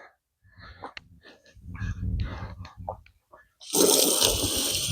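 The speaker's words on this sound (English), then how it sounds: "Rinse them out real quick." Water gushing while containers are rinsed during homestead fall chores, a loud, steady rush arriving abruptly after a few seconds of quiet talking close to the listener.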